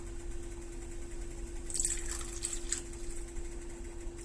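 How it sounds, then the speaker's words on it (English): A touch of water is poured into brown gravy for pork chops, a brief light splash and trickle in the middle, faint over steady kitchen hum. "I'm just going to add a touch of water."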